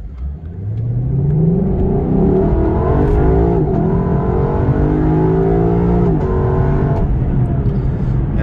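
Lexus LC500 V8 in sport mode accelerating hard, a loud, close engine note climbing steadily in pitch through a long continuous pull with one brief shift dip, running alone without talk.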